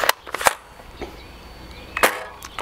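A Nerf Elite dart blaster fires outdoors with sharp, close snapping pops, two quick shots early and another pair about two seconds in, separated by quiet with light wind.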